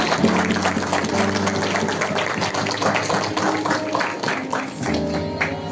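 Warm applause from a church women's group gathering, dense steady clapping from many hands with a music-like tonal bed underneath, sustained at fairly even loudness throughout.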